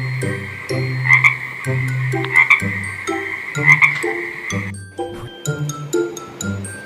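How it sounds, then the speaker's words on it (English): Repeated frog croaks in a regular, pulsing rhythm, layered with a tonal musical backing and bright chiming notes. "It's the sound of a frog."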